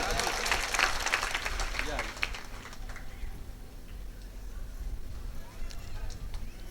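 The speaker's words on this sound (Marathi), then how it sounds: "ओके चला टाळ्या वाजवता की तुम्ही." An audience at a kirtan claps, a dense burst of applause at the start that fades to scattered claps under a murmur of voices and ambient noise.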